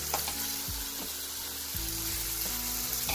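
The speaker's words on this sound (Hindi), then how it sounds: "अब थोड़ा और भूनेंगे।" Masala with chopped tomatoes and then saag fries in a pan for sarson da saag, giving a steady loud sizzle with stirring scrapes throughout.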